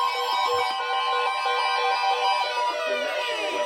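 A phone sounds an emergency alert tone for a severe thunderstorm warning, a loud, steady, harsh two-tone blare that holds without a break.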